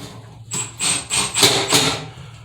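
Plastic wall anchors for a towel bar are pushed into sheetrock, producing about five short, scraping, rubbing bursts at a steady rhythm, close and fairly loud.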